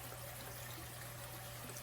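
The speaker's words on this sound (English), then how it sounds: "Shake it up and then pour it in there because it'll still have a little bit of that broth." Broth poured from a carton into a pot for Southern mixed greens, a steady soft trickle of liquid running continuously and quietly, close by with no talking.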